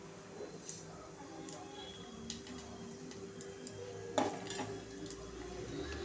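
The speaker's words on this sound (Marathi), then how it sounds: "फोडणी छान तडतडली की मग आपण टाकणार याच्यात लसूण" Whole spices such as cumin, fenugreek, mustard and nigella seeds crackle in hot oil on low heat while tempering for Rajasthani chilli fry. Sparse, faint pops and ticks stand over a quiet background hum.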